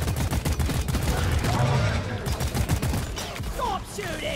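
Rapid gunfire in the video game Deep Rock Galactic during a fight against Praetorian enemies, dense bursts of shots with a player's voice talking over the action.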